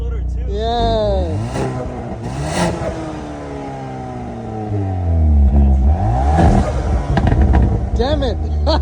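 A tuned BMW engine at about 300 horsepower revs hard with a deep, bassy note and repeated surges, its turbo fluttering between pulls, while voices talk over it up close.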